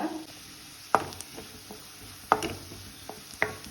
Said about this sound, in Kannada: ನೋಡಿ, ಫ್ರೈ ಆಗ್ತಾ ಇದೆ.